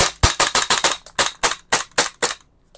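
A VFC SIG P320 M17/M18 gas blowback airsoft pistol fires about thirteen sharp, loud, close shots in fairly quick succession, each a crisp crack with a brief slide clack, before falling silent.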